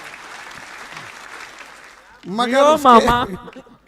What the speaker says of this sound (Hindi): एक बार जोरदार तालियां मामा जी के सम्मान में